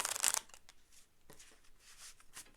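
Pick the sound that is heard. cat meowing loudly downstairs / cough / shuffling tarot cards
shuffling tarot cards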